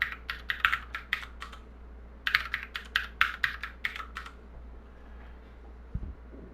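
Keys clatter on a computer keyboard as a Unix username and then a password are typed during a Linux setup, two quick bursts of close, crisp taps separated by a brief pause, then quiet.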